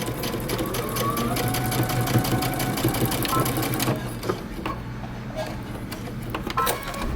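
A sewing machine back stitches a tab for a bomber jacket made from Simplicity pattern 8222. A few seconds of fast rhythmic stitching give way to shorter stop-start bursts, with a voice speaking quietly at times.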